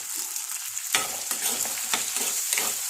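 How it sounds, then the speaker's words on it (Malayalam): Curry leaves and chopped ingredients fry in a pan with a loud, steady sizzle, broken by several scraping stirs from a utensil, close up and with no voices. "ഉപ്പും കൂടെ ഇട്ടിട്ട് നമുക്ക് മൂപ്പിച്ചെടുക്കാം"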